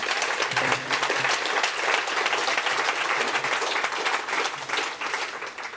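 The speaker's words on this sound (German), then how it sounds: "Applaus" An audience applauds a German federal minister's speech at a reception, a full, sustained round of clapping from many hands. A brief voice surfaces near the start before the applause carries on alone at an even level.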